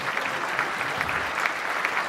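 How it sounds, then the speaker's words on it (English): A conference crowd at a game-show segment applauds steadily, a dense, even clapping that stays loud throughout and is heard alone. "give them a big round of applause"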